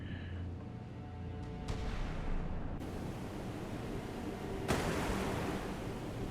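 Artillery fires in a naval combat video game: a few sharp, heavy bursts break out over a continuous roaring, sea-like wash, each blast rising abruptly and then trailing off.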